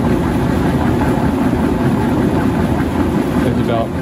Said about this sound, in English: it's spinning very fast. That's why it's a pretty large engine to spin it at this speed.